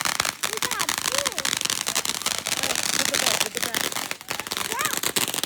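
Crackling, popping Fourth of July fireworks burst repeatedly in quick irregular volleys close by, with a few sharper bangs, while excited voices talk over them.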